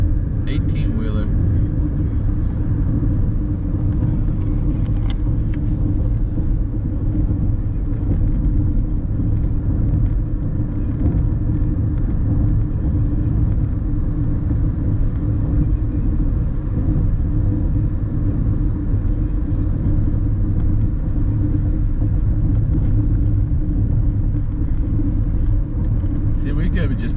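A car rolls downhill over a mountain pass stuck behind an 18-wheeler, giving a steady, close low road rumble and cabin drone throughout, with people talking over it.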